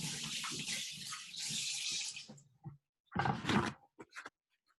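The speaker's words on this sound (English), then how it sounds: "let me just rinse my hand" Hands rinsed under a running kitchen tap, a close hiss of water that runs steadily for a couple of seconds, cuts off, then returns in a few shorter bursts.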